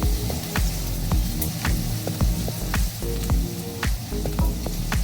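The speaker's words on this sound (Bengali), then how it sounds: "পেঁয়াজটা কিছুক্ষণ ভেজে নেব" Chopped onion fries in oil in a pan for a mustard pabda fish curry, crackling with a loud, busy sizzle and frequent sharp pops and spatters, close and continuous with no voices.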